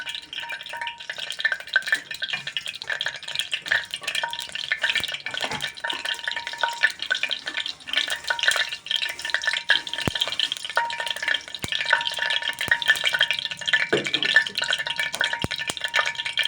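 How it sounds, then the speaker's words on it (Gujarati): Vegetables tempered in hot oil inside a pressure cooker, with a spoon stirring and scraping through a steady crackling sizzle; moderately loud and close, with no talking. "પહેલાં શાક વઘારી દઉં કુકરમાં"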